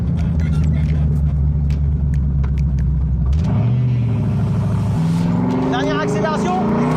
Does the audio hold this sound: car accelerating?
yes